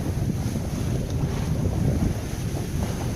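Steady wind rushes over an O'Day 272 sailboat on the Pacific near Anacapa Island, a constant broadband roar with water wash beneath and no voices.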